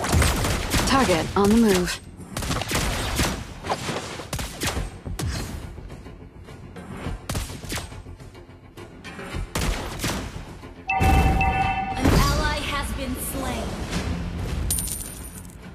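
Rapid bursts of gunfire from an online shooter video game, loud and repeated in volleys throughout, with a short voice line and game announcer cues over the shooting.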